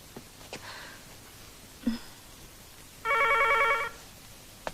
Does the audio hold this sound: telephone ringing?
yes